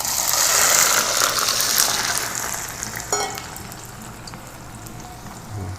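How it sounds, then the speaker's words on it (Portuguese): Potatoes frying in plain hot oil in a home-style kitchen, a steady broadband sizzle that is loudest early and eases slightly, with a brief clink near the middle and no talk. "Eu vou colocar a batata ali para fritar."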